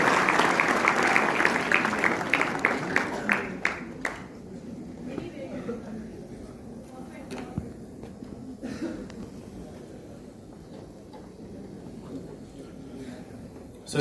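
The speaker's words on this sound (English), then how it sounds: "have a huge round of applause for him" Audience applause fills a campus event hall at first, loud and dense, then thins out over several seconds into scattered claps and low crowd murmur with some talk.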